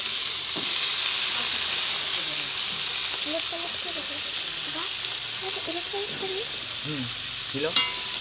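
Green beans frying in a wok while being stirred, with constant strong sizzling and repeated spatula scrapes and clicks, a sharper knock near the end, and a faint voice in the background.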